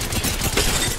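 Rapid automatic gunfire in the Apex Legends video game during a ranked match, a dense continuous burst of loud shots filling the whole second with no talk.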